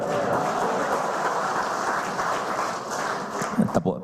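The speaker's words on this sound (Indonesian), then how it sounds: "Tepuk tangannya kurang." Party guests at the President's 61st birthday surprise by PDIP cadres clap and cheer in a steady, dense crowd applause that continues throughout, with talking mixed in.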